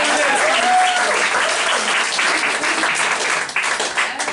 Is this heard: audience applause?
yes